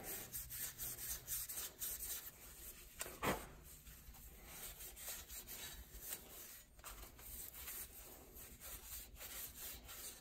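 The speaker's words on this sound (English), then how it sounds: "just kind of polish it up just a little bit without taking anything off the surface actually" Abrasive rubbing strokes scrub dirt and grime from the axle bearing housing of a Yamaha Grizzly ATV, a quiet, close, repeated back-and-forth scraping with one sharper scrape partway through.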